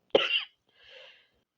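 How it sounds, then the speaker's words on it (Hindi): A single person's cough, loud and close: a sharp harsh burst lasting about a third of a second, followed by a fainter, breathy throat sound, then quiet. "सॉरी, थोड़ी-सी खाँसी हो गई थी।"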